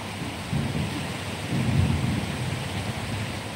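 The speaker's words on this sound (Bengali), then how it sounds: "ওই যে দেখো বৃষ্টি হচ্ছে" Steady rain pours outdoors while low thunder rolls in twice, swelling and fading under a constant wash of falling water, no one talking.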